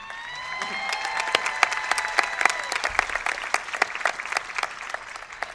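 A high school commencement crowd of graduates, family and friends claps steadily with a few sharp nearby claps and faint cheering, lasting several seconds.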